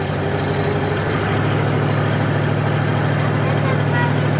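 A steady, low car engine drone with a torque converter, a constant hum like idling or running at a steady pace, loud and continuous without a break.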